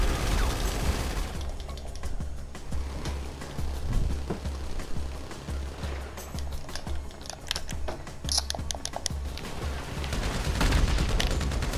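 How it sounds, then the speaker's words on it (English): Minigun fire in Grand Theft Auto V, long rapid rattling bursts of automatic shots mixed with other gunfire and game effects, continuous and loud across the stretch. "Is that a minigun?"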